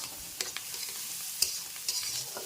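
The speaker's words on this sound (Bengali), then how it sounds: "এই মাছের ডিম আর এই যে মাছের তেলটা একসাথে ভাজা হচ্ছে" Fish roe and fish oil fry together in a pan with a close, steady sizzle. A few sharp scraping clicks of stirring break through the hiss, and nobody speaks.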